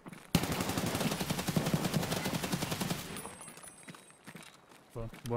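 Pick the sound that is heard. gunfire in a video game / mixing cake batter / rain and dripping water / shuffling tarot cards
gunfire in a video game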